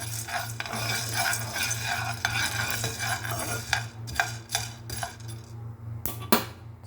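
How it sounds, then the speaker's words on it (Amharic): Coffee beans roast on a low flame in a pan and are stirred, with steady scraping strokes over a low hum that give way to sharper, separate clinks and scrapes toward the end. "ይኸው ቡናው እየበሰለ ነው፣ ግን እሳቱን በትንሽ አድርጌው ነው።"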